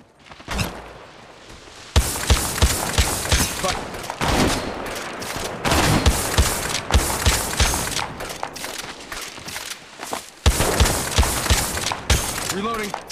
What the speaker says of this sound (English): In combat, I am taking fire.